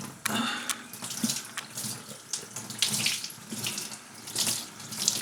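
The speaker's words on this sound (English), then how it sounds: "So really thorough rinse and just gently, softly wipe that off" Tap water runs steadily into a sink while a sticky, tacky plastic tool handle is rinsed thoroughly under it, splashing and gurgling close up with small shifts as the handle moves through the stream.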